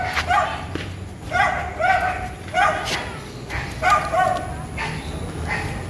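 A tiny dog gives a run of sharp, high yips in regular clusters, close by outdoors at night, with light talk and faint background noise.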